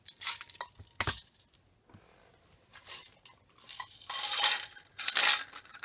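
Glass and acrylic beads, including crystal-colored glass ones, handled close up: bursts of light clinking, rattling and clicking come and go in irregular clusters with quiet gaps between.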